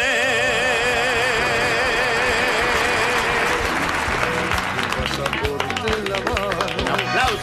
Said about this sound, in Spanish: Un aplauso a toda la emigración italiana.